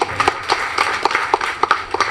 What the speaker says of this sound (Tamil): இவருக்கு ஒரு பலத்த கரகோஷங்கள்